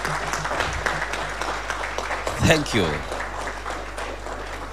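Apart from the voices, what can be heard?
audience applause for the professor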